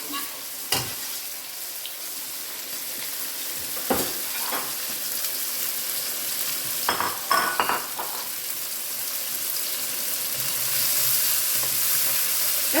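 Chopped ginger sizzles in a hot pan of fried rice, a continuous frying hiss broken by several sharp clinks and scrapes of a utensil stirring, growing slightly louder toward the end.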